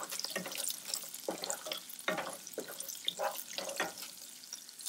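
Green chillies frying with roasted peanuts in ghee for sabudana khichadi give a light, crackling sizzle broken by irregular bursts of spattering and stirring, moderately close and unaccompanied by speech.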